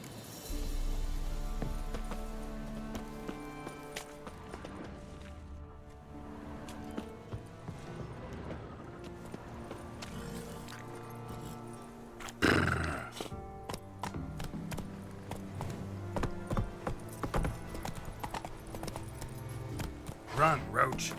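Hooves of Geralt's horse Roach clip-clop under game music and speech in The Witcher 3, with a brief whinny; the steps come in loose bursts rather than a steady gallop.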